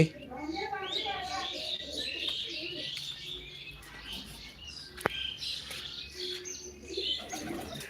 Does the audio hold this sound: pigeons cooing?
yes